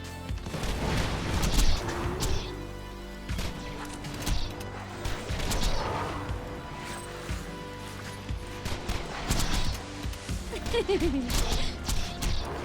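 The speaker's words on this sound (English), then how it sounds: "Just throw a grenade at that one." Grenade explosions in Borderlands 2 gameplay: several heavy booming blasts with crashing debris and mechanical clatter, spread across the stretch amid busy game effects.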